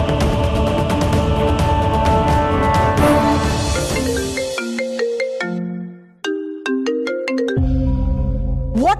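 A phone ringtone plays loudly and close, a steady electronic melody of repeating tones that runs alone for several seconds with short breaks between phrases.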